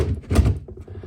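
A drawer in a cosmetology student's nail desk opens in a quick sliding scrape that ends in a soft wooden thunk, all within about a second, close by and with no talking.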